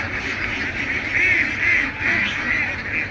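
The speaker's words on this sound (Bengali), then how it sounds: "চারণভূমিতে দেখেন হাঁস চড়ে বেড়াচ্ছে" A flock of ducks grazing on a pasture quacks and honks continuously in overlapping, nasal calls, fairly loud and close, with no talking.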